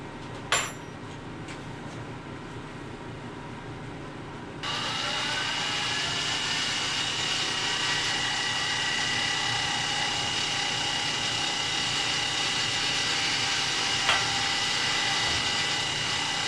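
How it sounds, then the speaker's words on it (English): A high-pitched power drill whines steadily for a long stretch, drilling 1/4-inch rivet holes in Kydex, close and continuous, with a brief click before it starts. "I'm going to drill out what I've got here"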